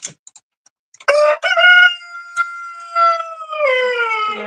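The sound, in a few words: chickens and rooster in a chicken coop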